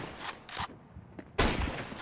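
Bursts of gunfire in the video game Counter-Strike 2, a few short separate shots followed by a louder sustained volley, fairly quiet overall.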